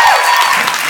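Concert audience applauding at a live music show, a dense, loud wash of clapping with some crowd noise, filling the short moment without pause.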